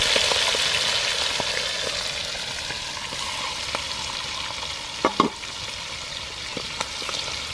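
Quail frying in hot oil for a Kerala pepper roast, a steady close sizzle with faint stirring clinks and a couple of sharper pops near the end, no talking.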